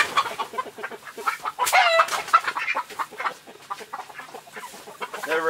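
Young chicks in a brooder cheep and cluck close by, with a busy stream of high peeps and soft chatter and one louder squawking burst partway through.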